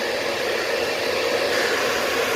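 A hairdryer blows steadily at close range during hair styling, a loud continuous rushing whoosh with no pauses.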